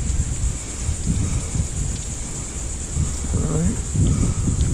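Loud gusting wind roars over the microphone outdoors, a steady low rumble with a faint voice briefly underneath.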